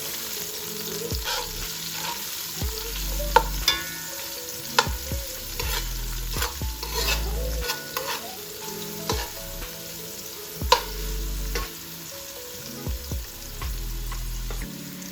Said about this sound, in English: You're gonna allow that to fry for maybe 2 minutes.